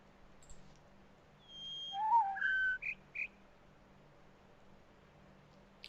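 Someone whistles a short run of clean notes, a high one, a low one and two in between, faint and alone over quiet background hiss.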